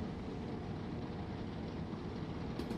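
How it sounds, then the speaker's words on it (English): A train in Train Sim World 2 on the East Coastway, heard from a Class 377 cab, gives a low, steady rumble that stays faint and even through the whole short stretch. "Well, there's a train coming down."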